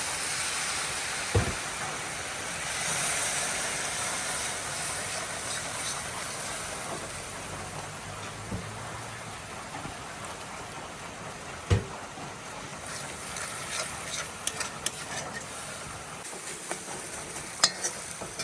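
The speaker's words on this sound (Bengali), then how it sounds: "এই যে মশলা কষানো হয়ে গেছে" Spice paste with chili powder and a splash of water being stir-fried in a pan for a fish and egg malai curry: a low continuous sizzle with occasional utensil scrapes and clicks, no talking.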